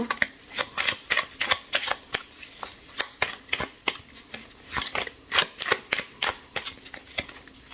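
Tarot cards being shuffled by hand, a rapid series of crisp riffling snaps and soft papery slaps repeating close up for several seconds with no talking.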